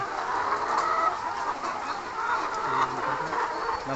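Chickens cluck and murmur all around, about eleven hundred birds in two-tier cages on a farm, a busy, continuous chatter.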